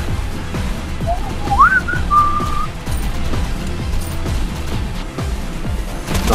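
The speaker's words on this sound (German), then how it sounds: "Android Whistle Sound" Samsung Android whistle notification, a short rising two-part whistle lasting about a second, plays over a busy rumbling game soundtrack with thumps and crashes.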